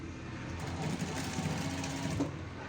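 A sewing machine runs continuously while stitching the waistband of a semi patiala pant, producing a fairly quiet, even, rapid mechanical whirr.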